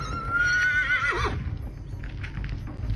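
A horse on a ranch lets out a loud, close whinny lasting about a second and a half with a falling pitch. A rough, quieter rustle of outdoor noise follows, and no one speaks.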